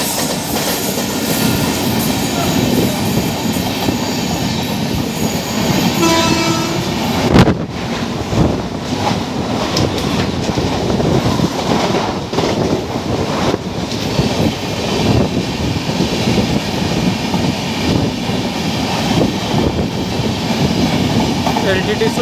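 12143 Mumbai LTT–Sultanpur Express passenger train running past and overtaking the Pragati Express near Vikhroli, a loud steady rumble with clickety-clack wheel beats, wind buffeting and a sharp burst around the middle.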